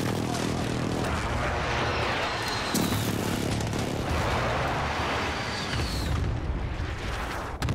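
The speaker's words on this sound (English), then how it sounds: "Airstrike, airstrike, airstrike, airstrike." A loud, dense wall of rumbling airstrike explosions and battle noise in Call of Duty: Modern Warfare, sustained throughout without a break, with jet-like sweeps passing over the booming blasts.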